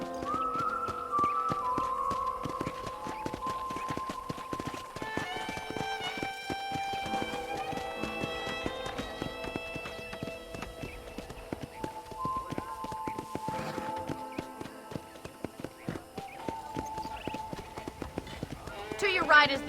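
Rhythmic clip-clop of horse hooves runs steadily throughout, mixed with game music and background effects, in Red Dead Redemption.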